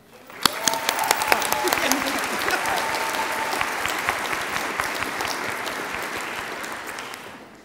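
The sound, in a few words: applause at graduation ceremony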